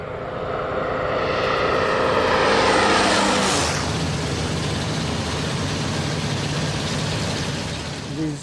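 A Corsair propeller fighter plane passes close and loud, its engine drone swelling to a peak and then falling in pitch as it moves away, fading into a steady distant rumble.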